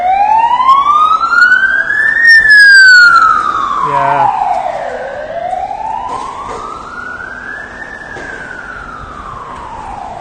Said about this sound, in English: I think there's a fire service ambulance.